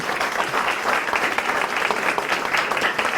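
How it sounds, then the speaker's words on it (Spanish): Applause from a seminar audience at a medical workshop fills the room, a dense, steady wash of many hands clapping at even loudness throughout, with no voices on top. "Un aplauso para estos muchachos"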